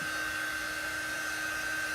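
A hair dryer blows continuously at close range over freshly chalk-painted wooden miniature pieces, a steady airy rush with a thin high whine and no talking.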